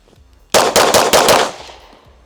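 Five rapid, loud pistol shots from a Canik Rival fitted with a DPM recoil reduction system, fired outdoors in quick succession with a trailing echo.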